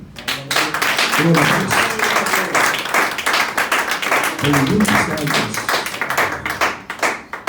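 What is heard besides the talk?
congregation clapping for the Lord in church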